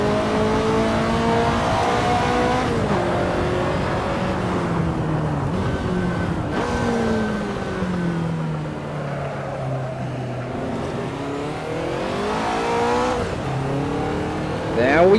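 Ferrari 288 GTO engine in Assetto Corsa revs loudly and continuously, its pitch climbing and dropping through repeated gear changes, with faint talk underneath.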